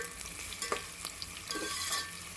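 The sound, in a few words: onions frying and being stirred for chicken biryani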